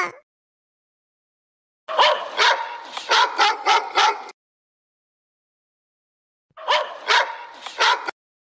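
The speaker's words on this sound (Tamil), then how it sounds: "அது யார் வீட்டுல உள்ள நாய் இப்படி கொலைக்குது" A dog barks in two separate bursts of rapid, loud, fairly close barks, with silence before and between the bursts.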